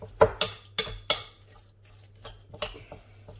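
Vegetable pakora batter of gram flour and self-raising flour being mixed in a bowl, with a few sharp clinks and knocks of a utensil against the bowl early on, then softer, sparse stirring scrapes.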